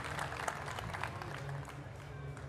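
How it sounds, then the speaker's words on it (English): Faint applause from a small gaming-event audience at RTX 2014, a scattered patter of clapping held steady for a couple of seconds at low volume. "Claps for James, everybody."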